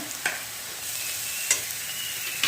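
Masala of red chilli powder and salt sautéed in a pan for a village-style capsicum dish, a steady soft sizzle with a few sharp scraping clicks of a stirring spoon, close and alone.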